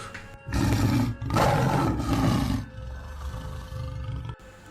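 A huge striped were-tiger roars loudly in a fantasy audio tale, two long ferocious bursts followed by a lower rumbling growl, heard alone without narration over it.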